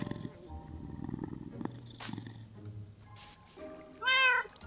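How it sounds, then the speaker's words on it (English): Several cats in Minecraft Bedrock meow and purr, with soft background game music and ambience, ending in a louder, clear meow. "Three cats!"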